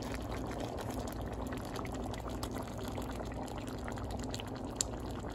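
Soup is stirred in a pot, giving soft, continuous liquid sloshing and bubbling close to the microphone at low level, with no talking.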